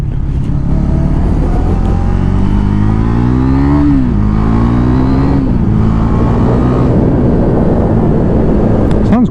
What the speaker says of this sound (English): Sounds quite good. It's got an aftermarket exhaust.